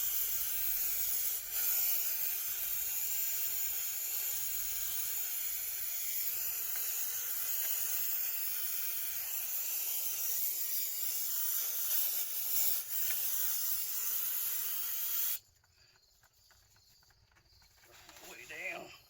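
Brake cleaner sprays from an aerosol can in a long, steady hiss lasting about fifteen seconds, close and even, then cuts off abruptly to near silence with a faint rustle at the end.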